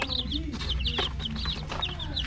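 Chicks in a chicken coop make a continuous chorus of high, close cheeps over a low rumble, with no talking.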